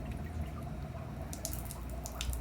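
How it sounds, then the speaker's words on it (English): Water dripping and trickling from aquarium moss lifted out of a 75-gallon fish tank, soft close patters and small splashes over a low background hum. "Dripping everywhere."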